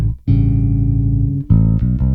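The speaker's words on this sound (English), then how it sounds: "It's just the sound of your bass" Bass guitar played through a Golden Master Pedal used as a preamp: a sustained low note rings for over a second, then a few more plucked notes follow, loud and close with no talking.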